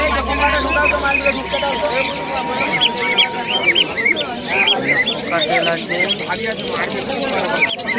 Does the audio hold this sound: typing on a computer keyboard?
no